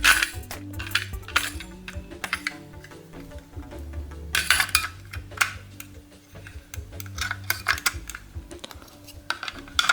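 AA Eveready batteries are handled and snapped into a Logitech MK220 or MK215 wireless keyboard, giving bursts of close, sharp plastic clicks and small metallic clinks with brief pauses, and no talking.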